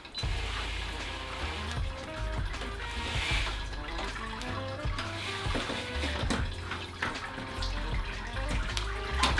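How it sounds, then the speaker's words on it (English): Hot water at 78 degrees Celsius runs over a grain bed while sparging a chocolate stout brewed with cacao nibs, a continuous splashing, trickling pour that is steady and close throughout. "this basically means running a bunch of hot liquor, so hot water at 78 degrees Celsius over top of your grain bed"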